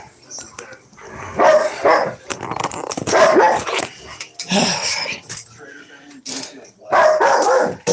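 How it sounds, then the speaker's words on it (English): Dogs barking in several loud, close bursts with some growling, sounding in clusters separated by short quiet gaps, with a person's voice mixed in among the barks. "fend off the dogs."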